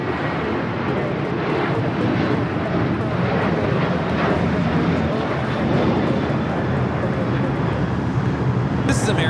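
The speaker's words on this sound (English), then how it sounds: "This is American Airlines 814 taking off to Pittsburgh on the 737-800." An American Airlines Boeing 737-800 takes off at Los Angeles airport, its engines a steady, fairly loud broadband roar that continues throughout the stretch without voices.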